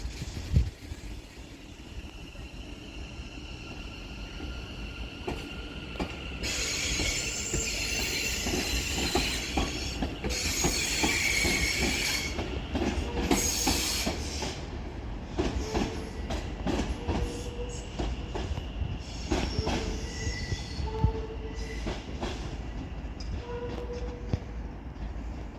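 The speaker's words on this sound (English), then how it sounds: "Now departing is going to be the delayed 1548 West Midlands Railway service to Walsall, starting here at Wolverhampton" West Midlands Railway Class 730 electric train departing Wolverhampton station, rumbling and building as it pulls away, with wheel squeal and rhythmic clickety-clack over the rail joints.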